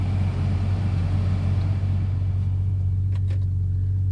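Deep, steady rumble from a Ferrari 458 Italia with a naturally aspirated V8, close and continuous for a few seconds, fading slightly at the end.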